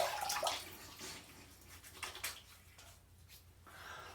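Water runs from a tap for shaving, giving a continuous hissing splash that swells and fades in a few bursts, fairly faint and close, with no voices.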